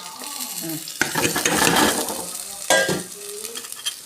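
Carrots and garlic sautéing in a pan for carrot rasam, a loud close sizzle broken by sharp stirring scrapes at two points, with faint traces of a voice near the start.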